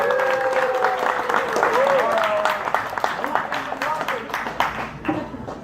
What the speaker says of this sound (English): You can burst into applause if you like.